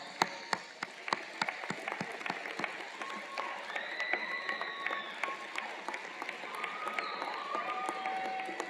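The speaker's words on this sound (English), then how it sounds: "graduates, would you stand and offer a round of applause to all the people who helped you through your time here" A graduation commencement audience claps in a hall, a soft, fairly distant patter of applause that swells slightly and keeps going, with faint tones and voices drifting over it.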